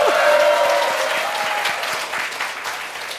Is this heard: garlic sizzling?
no